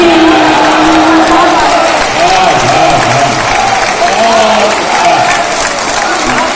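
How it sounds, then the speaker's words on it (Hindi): Sustained applause from an audience at a poetry recital, a steady dense wash of clapping with voices calling out over it throughout. "जोरदार ताली"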